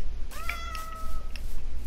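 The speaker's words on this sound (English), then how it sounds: "Kitty cat. Kitty cat." Cat meowing in Minecraft, two short clear meows close up in quick succession over a low background hum, with no talk.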